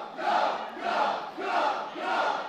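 A wrestling crowd at an RWR match chants in rhythmic waves, four swelling cheers at a steady beat, loud and close.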